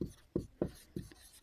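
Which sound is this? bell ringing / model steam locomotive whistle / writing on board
writing on board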